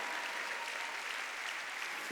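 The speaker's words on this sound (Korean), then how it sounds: "박수 치라니까" A church congregation claps steadily during a Sunday worship service, producing a dense, continuous wash of applause that holds level throughout with no voices standing out.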